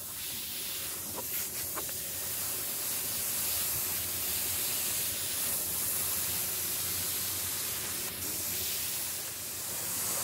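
Spray paint hisses steadily while a drop shadow is laid down on a masked-off graphic paint job, a continuous soft airy rush with faint clicks.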